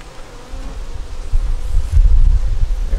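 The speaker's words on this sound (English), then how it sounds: "We're gonna take these bees here." Honeybees buzzing on a hive frame as frames are moved so the queen has room to lay eggs, a dense continuous drone that swells louder over the second half, with no talk.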